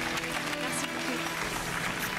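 Studio audience on the French TV game show Mot de passe claps steadily throughout, a dense wash of applause with voices and background music mixed underneath.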